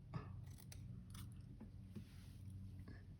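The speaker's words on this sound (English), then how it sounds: "So I'm just gonna trim very carefully." Scissors carefully trim a fabric edge for a cover, making a few quiet, close metallic snips and clicks spaced unevenly, with no talking.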